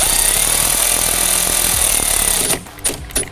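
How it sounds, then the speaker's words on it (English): A powered ratchet buzzes loudly up close while tightening the mounting nuts of an LED light bar on a bumper, running steadily for about two and a half seconds before it stops and a few short bursts follow. "Reverse direction on this powered ratchet."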